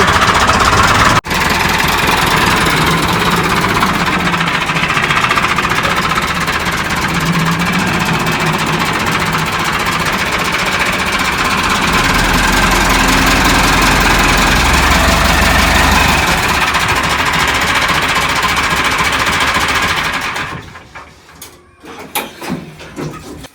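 A tractor engine runs steadily at a loud idle, close by, with a constant rattling throb. It drops away near the end into a few uneven knocks and quieter sputters.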